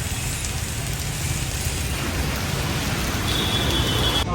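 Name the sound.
heavy rain falling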